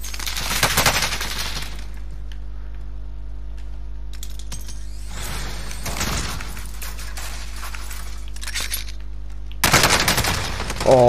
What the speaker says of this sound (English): He was shooting at someone.